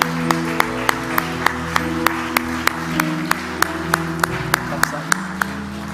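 A church congregation at a Sunday service claps in steady unison rhythm, sharp regular beats over sustained tonal music in the background.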